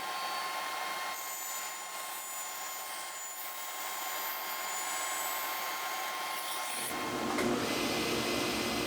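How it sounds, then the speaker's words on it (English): A bandsaw hums steadily while trimming the two sides of a cabinet panel along the fence, a continuous whirring cut that shifts to a rougher, lower tone near the end. "Then took it over to my bandsaw using the bandsaw fence and trimmed the 2 sides almost"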